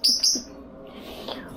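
Two quick, bright bird chirps close by, then a fainter call trailing off in a quiet room.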